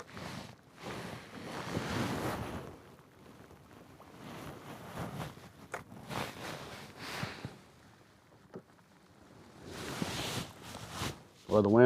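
Gusty wind rushes and buffets the microphone at night out fishing in the rain, rising and falling in broad swells with faint sounds of nearby water underneath.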